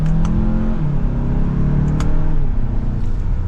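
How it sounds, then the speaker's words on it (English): Turbocharged engine of a 2024 Hyundai Santa Fe Calligraphy pulling up through the revs from inside the cabin, a rising drone that climbs, briefly drops, then climbs again, steady and moderately loud with a couple of faint clicks. "Honestly, this turbo motor is pretty peppy."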